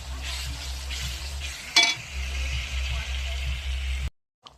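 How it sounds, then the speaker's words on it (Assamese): Spices fry in oil for a goat meat curry, making a steady close sizzle with stirring scrapes and one sharp clatter midway before cutting off abruptly. "মছলাখিনি ভাজি আছো ভাজি ভাজি"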